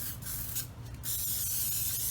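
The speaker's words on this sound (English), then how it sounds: "we just want to lightly spray it with some oil" Cooking oil sprays onto a pie tin in a close, hissing burst that briefly pauses and then continues as a steady spray.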